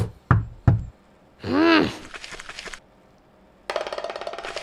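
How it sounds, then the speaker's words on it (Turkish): Knocking on a door in an animated cartoon: two sharp knocks, then a whooshing swell, a brief rattle and a rapid run of loud knocks at the end, all fairly close with no talk. "Kapıyı çalıyor şu anda."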